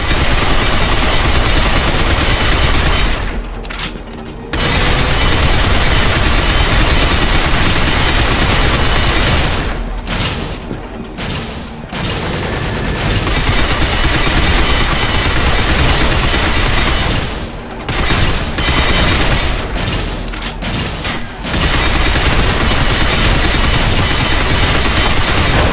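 Sustained automatic gunfire in the video game Binary Domain, loud, dense bursts of machine-gun fire rattling almost continuously with a few brief pauses between volleys.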